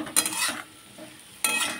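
Cauliflower and potatoes fry in a pan; two short bursts of spatula scraping and clatter stand over a faint, quiet sizzle, with no voices.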